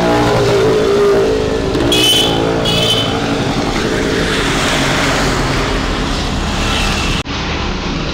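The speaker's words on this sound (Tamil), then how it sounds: "எக்கச்சக்கமாக கார் போகுது, பைக்கு போகுது, எல்லாமே போகுது." Heavy road traffic roars loudly and continuously as cars and motorbikes pass close by, with brief horn-like tones sounding early on and a sudden dip near the end.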